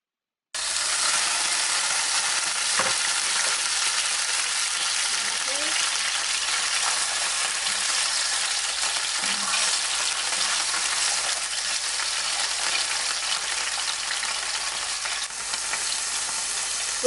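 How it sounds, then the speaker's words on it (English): Salmon frying in olive oil in a frying pan over low to medium flame, giving a continuous close hiss and crackle that stays steady from start to end, with no one talking. "Add 2 tablespoons of olive oil to the frying pan and then add salmon. Fry the fish till it's golden brown."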